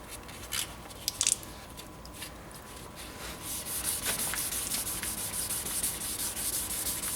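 Sandpaper wet-sanding a car headlight lens, a continuous close rubbing scrape that grows steadier and louder in the second half, with a few faint clicks early on.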